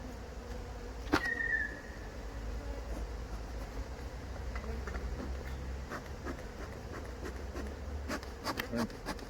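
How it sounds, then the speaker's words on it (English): Honey bees buzz around an open hive as a beekeeper works it, a steady, faint hum with a few brief knocks and taps near the start and end. "give it a gentle shake, tap the side, let the bees fly off"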